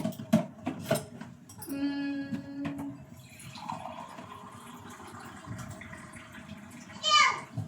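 Water pours steadily into a pot for several seconds, close by, while a person talks over it and a few clinks sound at the start.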